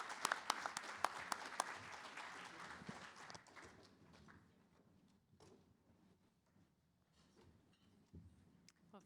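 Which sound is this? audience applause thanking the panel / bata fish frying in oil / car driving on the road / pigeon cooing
audience applause thanking the panel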